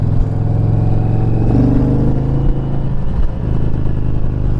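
A 2021 Indian Challenger Limited motorcycle engine pulls hard under acceleration, a loud, close, continuous rumbling drone with rising pitch and wind noise, with no one speaking.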